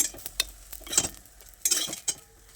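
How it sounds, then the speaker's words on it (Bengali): Fried eggplant pieces lifted out of a frying pan with a utensil, giving a few sparse, quiet scrapes and clinks with faint sizzling between them. "এবার এই বেগুনগুলোকে তুলে নিচ্ছি"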